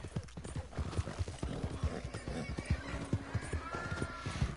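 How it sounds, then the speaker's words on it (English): Horse hooves clip-clop in a steady rhythm with occasional neighs and whinnies in Red Dead Redemption 2, moderately loud and continuous throughout. "Ain't you a good horse?"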